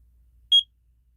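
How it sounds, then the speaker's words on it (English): A water level tool used for levelling a double or triple wide mobile home gives a single short, clear electronic beep, alone over near-silence. "you'll hear the beeping when it's close, and then it goes a solid beep"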